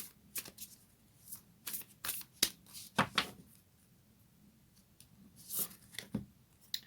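Moonology oracle cards being shuffled by hand, a run of crisp riffling bursts and soft slaps that come in uneven clusters, close and alone with no talking.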